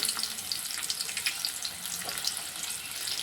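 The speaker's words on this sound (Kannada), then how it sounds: "ಉಳ್ಳಾಗಡ್ಡಿ ಸ್ವಲ್ಪ ಎಣ್ಣೆ ಫ್ರೈ ಆಗುತ್ತೆ ರೀ" Onions frying in a little hot oil in a home kitchen pan for a quick egg dish, a soft, steady crackling sizzle with small pops, faint and continuous.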